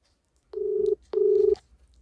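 Two steady ringback tones of a telephone call, each lasting about half a second with a short gap between them, clear and close with no talk over them.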